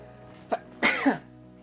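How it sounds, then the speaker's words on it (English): A person sneezes indoors: a short catch of breath, then a sharp, forceful burst that trails off quickly, close and fairly loud against a quiet room. "I'm going to sneeze."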